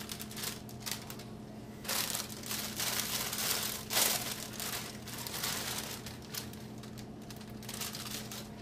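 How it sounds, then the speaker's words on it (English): Plastic bags of lettuce being opened and emptied into a kitchen strainer, producing steady crinkling and rustling over a low hum, with brief louder bursts of crumpling. "So we open our bags of lettuce, empty them into the strainer, get all that out."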